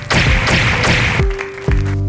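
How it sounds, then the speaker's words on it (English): A hand pats someone's own back, giving several dull, close thumps in a loose rhythm, each soft thud followed by a short pause. "I will be giving myself a pat on the back."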